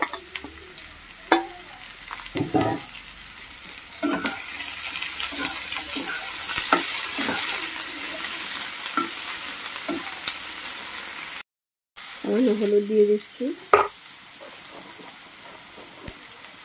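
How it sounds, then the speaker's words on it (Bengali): Long-cut potato strips frying in a pan with a little turmeric and salt, a moderate crackling sizzle with repeated scraping stirs, a brief drop to silence, then louder sputtering and stirring resumes. "দিয়ে এই আলুগুলোকে ভেজে নেব সামান্য হলুদ আর লবণ দিয়ে"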